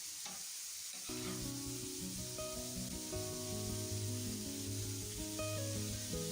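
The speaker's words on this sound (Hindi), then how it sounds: "ज़ीरा और धनिया 1 टेबल स्पून शामिल कर देंगे और मिक्स करते हुए अच्छे से इसको भून लेंगे।" Cumin seeds and coriander sizzle and crackle as they fry with liver on a hot tawa over medium-high flame, a steady loud frying hiss with stirring scrapes throughout and no talk.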